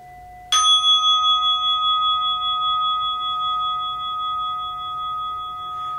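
A single gong strike with a large striker, a sharp attack, then a long shimmering tone that rings on and slowly fades, alone in quiet.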